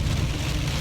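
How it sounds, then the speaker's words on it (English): Rain pounds steadily on a car window during a drive, a dense, continuous wash of drumming with a low rumble underneath, close and fairly loud, with no voices. "As you can hear the rain pounding down on my window."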